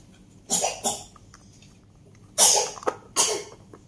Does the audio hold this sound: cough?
yes